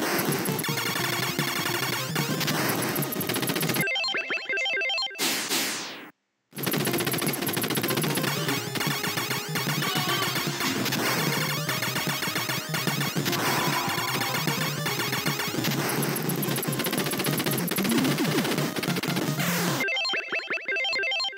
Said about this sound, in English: Oh, the machine gun power up.